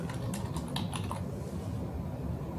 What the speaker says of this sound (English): I'm just going to type in OSB.